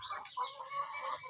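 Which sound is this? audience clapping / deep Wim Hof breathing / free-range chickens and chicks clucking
free-range chickens and chicks clucking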